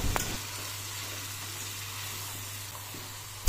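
Chicken kosha sautés in a pan, a soft even sizzle and hiss holding steady throughout, close but fairly quiet, with a brief clatter at the start and a louder knock at the very end.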